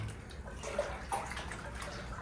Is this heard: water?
yes